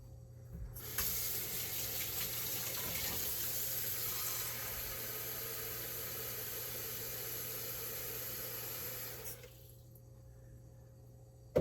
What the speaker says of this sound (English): So, water first, a little bit of water, like about that much water to start.